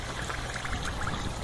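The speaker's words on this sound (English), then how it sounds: "I was having a hard time even keeping up with that flow of water" Water gushes through the drain of an aquaponics fish tank, a continuous splashing pour with bubbly gurgles over a low rushing flow, close and steady throughout.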